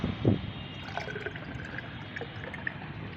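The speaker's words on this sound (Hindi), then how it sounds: "इसको इसी में हम छान लेते हैं।" Homemade liquid plant fertilizer of ajwain and tea leaves strained into diluted water, a faint close trickle and drip of liquid after a brief louder splash at the start, with no talk.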